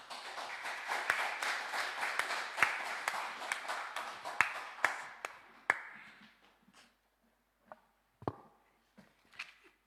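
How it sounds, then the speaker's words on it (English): Audience at a university seminar on women and leadership applauding panelists, dense clapping that thins out and fades to a few scattered final claps. "Can we give another big round of applause to our three panelists?"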